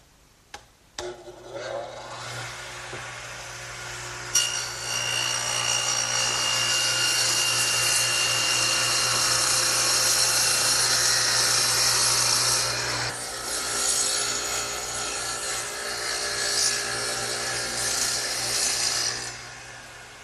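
A radial arm saw cuts a quarter-inch-deep, three-quarter-inch-wide groove in wood for a workbench shelf. After a few knocks, a loud, steady, rasping cut runs for several seconds, then eases into a lighter, continuing whir.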